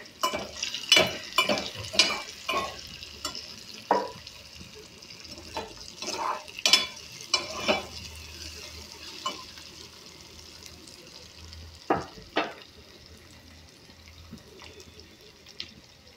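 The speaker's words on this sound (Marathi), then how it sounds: "हरभरा डाळ व्यवस्थित भाजून घ्यायची आहे." Chana dal roasting in oil, stirred with a utensil: irregular sharp scrapes and clinks against the pan, clustered early and then spaced out, over a faint low sizzle.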